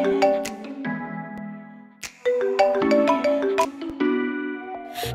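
A phone plays a melodic ringtone for an outgoing call, a bright run of chiming notes that repeats through the whole stretch, loud and close with no talking.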